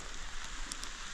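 Steady rain falling outdoors on a building site where a house foundation has just been screeded, a continuous soft hiss with faint scattered drops, no voices.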